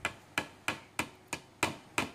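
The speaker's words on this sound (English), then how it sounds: "Do you like using hammer?" A toy hammer pounds during pretend baking play, seven crisp, evenly spaced knocks in a steady beat, each one loud and close with nothing else audible.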